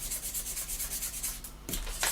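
A thin sanding stick rubs back and forth over small plastic parts of a 1/32 scale F-14D Tomcat model kit in quick, even, close scratchy strokes, with a short pause near the end.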